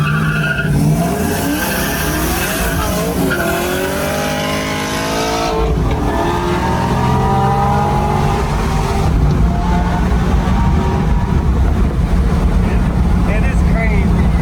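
A 1973 Pontiac Trans Am pro touring car roars under hard acceleration, its engine note climbing through gears with tire squeal, loud and continuous for the whole stretch.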